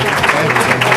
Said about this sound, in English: Not often we get claps